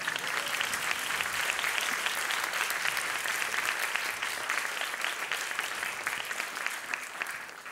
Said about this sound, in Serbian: Veliki aplauz za sve naše juniore